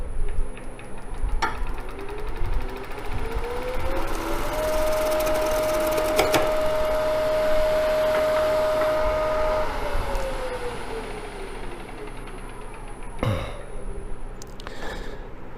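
A skew chisel cuts on a wood lathe while the spinning workpiece keeps up a loud, continuous rattling chatter and hum, with a steady pitched whine through the middle that fades near the end.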